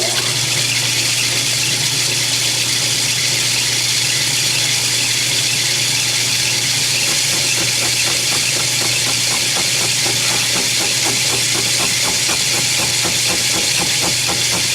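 A lathe cuts a steam engine cylinder with a slow-running high-speed steel tool, giving a loud, constant grinding squeal over a steady motor hum and vibration with no break.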